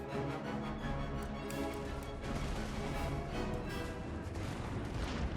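Dense, continuous cannon and artillery fire rumbles through a Total War: Empire battle, overlapping booms and crackling volleys filling a busy battlefield mix with no talking.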